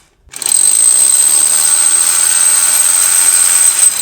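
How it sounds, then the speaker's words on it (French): Steady, loud drilling into a flint wall starts after a brief silence and whines continuously at near range, a sharp high-pitched grinding tone held throughout with no talking. "Percer dans le silex, c'est quasiment impossible."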